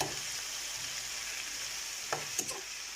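Sliced courgettes sizzle steadily in a frying pan, a continuous bright crackling hiss with a few sharper clicks and scrapes of stirring near the end, no voices.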